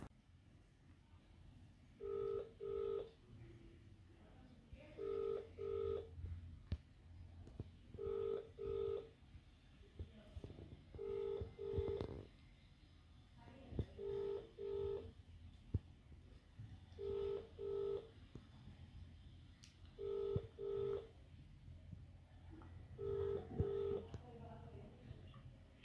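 Repeated electronic ringback tones on a phone line during a prank call to a family member, sounding in regular paired bursts every few seconds, with a voice and room noise underneath between rings.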